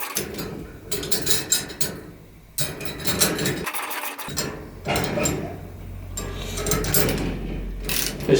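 Assembly of a festival trolley, also sold as a garden cart, with its two front axle joint bolts being tightened: repeated close ratcheting and mechanical clicking in bursts, with short pauses and some metallic clatter.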